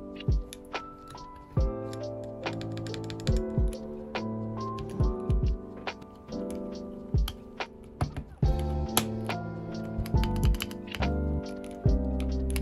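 Keycaps snap one by one onto a bouncy-feeling mechanical keyboard, giving close, sharp plastic clicks and taps in an irregular rhythm with no talking.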